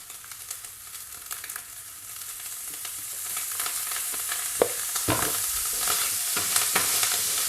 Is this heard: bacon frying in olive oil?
yes